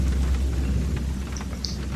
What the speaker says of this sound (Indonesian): Ketika perjalanan pulang, hujan turun cukup deras.